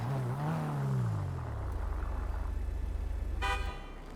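Car in the GTA V video game, an engine note that rises and then settles into a steady low hum, with a short sharp burst near the end, close and alone.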